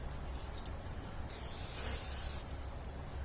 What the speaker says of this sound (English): We're going to take some cooking spray.